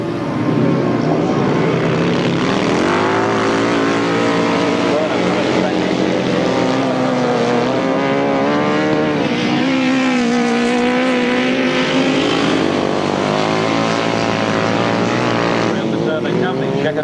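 Grasstrack sidecar outfits at the 1994 National Best Pairs race roar around the turn, a loud, sustained engine drone with rising and falling pitch as machines pass, talk heard over it.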